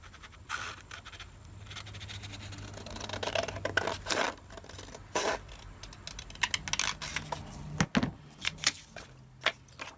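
Scissors trim along the edge of a handmade paper envelope, giving a run of close, quiet snips and paper scratches in an irregular rhythm, with no talking.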